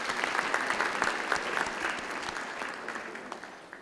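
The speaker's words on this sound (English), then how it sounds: "give yourselves a round of applause" Steady applause from an audience at a student recognition breakfast, a dense wash of many hands clapping at even loudness throughout, with no voices standing out.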